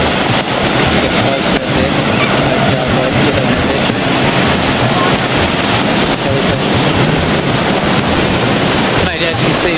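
Wind-blown surf roars continuously while a surf life-saving rescue jet boat and jet skis hum beneath, with crowd voices faint in the background.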